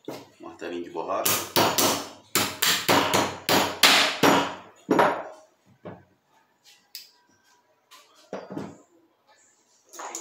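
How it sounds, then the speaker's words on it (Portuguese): A rubber mallet taps shotgun parts while a Mossberg 930 is taken apart, a fast series of sharp close knocks followed by a few scattered single taps. "Martelinho de borracha."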